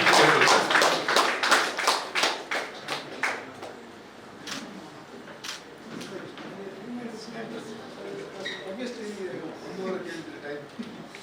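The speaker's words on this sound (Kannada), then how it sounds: "ಚಪ್ಪಾಳೆ ಮುಖಾಂತರ ಪ್ರೋತ್ಸಾಹಿಸಿ" Audience applause at a JCI Puttur awards event as a landscape-category winner is congratulated, a burst of clapping that is loudest at first and then thins out under continuing talk.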